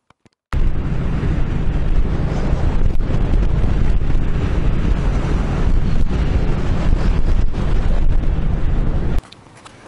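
Suzuki C50T motorcycle being ridden, with loud, steady engine and wind roar filling nearly ten seconds after a brief quiet start, then dropping off abruptly near the end.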